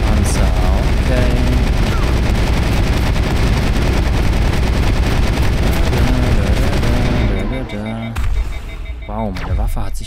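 Weapon fire in the Mass Effect video game during a Cerberus battle, dense rapid bursts of shots overlapping continuously and loudly for several seconds, thinning out toward the end with a few scattered blasts.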